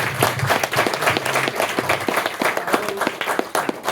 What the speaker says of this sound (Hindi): पहले आनंदी माँ और सुरेश भाई और उनके परिवार के लिए जोरदार तालियां।